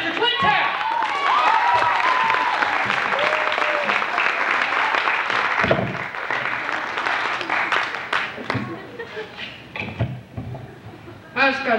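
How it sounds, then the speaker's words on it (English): A 1988 youth church program audience gives a big round of applause for Pastor Clint Taft: dense sustained clapping with a few voices in it, thinning and scattering toward the end as a few last claps ring out. "would you have a big round of applause for Pastor Clint Taft?"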